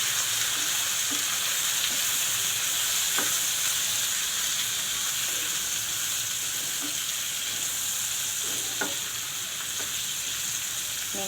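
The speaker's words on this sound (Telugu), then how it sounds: "దీంట్లో ఇప్పుడు కొంచెం పసుపు, అలాగే బాగా కలుపుతున్నాం." Eggplant sizzles steadily in a hot pan over high flame as turmeric is stirred in, with a continuous hiss of frying and occasional soft scrapes of the stirring spoon.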